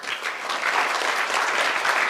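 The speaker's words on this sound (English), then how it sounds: "let's get a round of applause to two speakers" An audience at a geopolitics panel session on Taiwan and United States policy claps for two speakers, a dense, steady round of applause that holds at full strength throughout.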